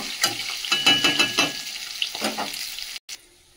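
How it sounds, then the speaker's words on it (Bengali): Fish fries in a pan with a crackling sizzle and stirring scrapes, close and fairly loud, cutting off abruptly near the end. "আর বাকি মাছটা ভেজে নেব"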